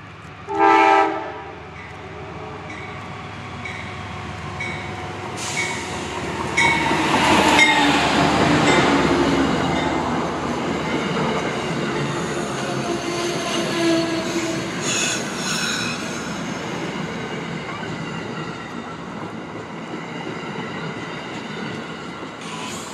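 A train rolls past on the Mohawk Subdivision, with a long, loud rumble of cars and wheels, screeching wheel squeal and bursts of metallic clatter. An early short blast suggests a horn, and the rolling noise holds steady to the end.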